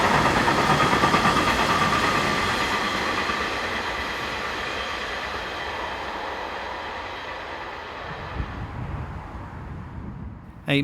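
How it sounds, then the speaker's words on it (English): A Metronom passenger train at a station on the main line between Northeim and Hannover, Germany, loud and close at first with steady rolling and engine rumble, slowly fading as it moves off, with a brief clunk near the end. "A Metronom passenger train has called at the station on its way north to Elze."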